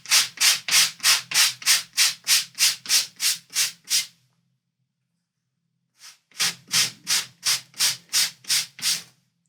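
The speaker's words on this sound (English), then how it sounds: "I'm going over this with my sanding paper, and you see the dots become white." Rhythmic rubbing strokes of a sanding block on embossed card, about a dozen quick even passes, a pause, then another steady run of strokes, close and loud.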